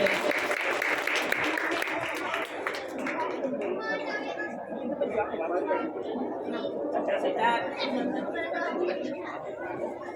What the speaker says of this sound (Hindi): और तालियां हो जाए ना जोर से